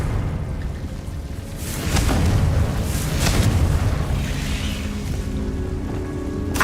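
A Confringo fire spell blast in Hogwarts Legacy erupts as a loud, rumbling boom with crackling bursts, swelling midway and sustaining a dense roar throughout.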